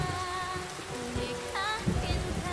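Rain falls steadily as a soft, even hiss on surfaces, with tonal background music layered over it and no voices present.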